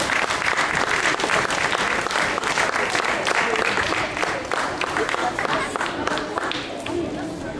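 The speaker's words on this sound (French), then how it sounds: "Et on les applaudit" A large audience at a school prize ceremony on stage applauds steadily, a dense, loud wash of clapping from many hands that holds for several seconds and eases slightly toward the end.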